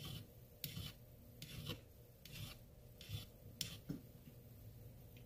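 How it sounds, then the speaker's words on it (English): A hand file rasps across the blade of a rusty vintage Case knife to remove a burr, a series of quiet, rhythmic scraping strokes about one per second, close and faint. "file the burr away."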